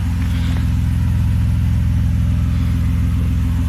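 A car engine idles steadily after a new radiator has been fitted, with coolant in the system and the engine warming toward operating temperature. The running note is loud, close and continuous, without speech.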